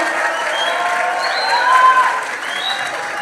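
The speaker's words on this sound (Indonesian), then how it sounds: "Beri tepuk tangan yang meriah untuk kita semua" An audience gives a lively, dense round of applause to welcome Ganjar Pranowo at a university event in Surabaya, with a few cheers and whistles rising over the clapping.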